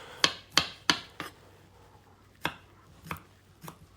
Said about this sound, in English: So we're just chopping it up now.